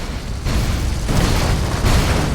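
Loud, dense explosions from the zombie video game Dead Rising 3, a continuous roaring barrage of blasts and booms with several stronger bursts layered over one another.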